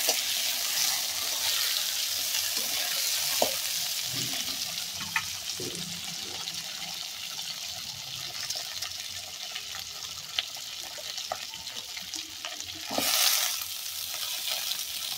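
Flat beans fry in hot oil in a pan, with a continuous sizzle broken by occasional spatula scrapes and stirring clicks and one brief louder surge near the end, with no talking.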